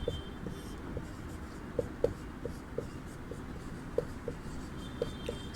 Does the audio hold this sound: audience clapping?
no